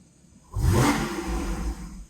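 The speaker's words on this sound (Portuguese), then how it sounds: "só para mostrar o ronco para vocês" After a brief quiet moment, a Porsche Boxster S (981) engine roars into a sharp rev, holds a throaty growl for over a second, then settles back down.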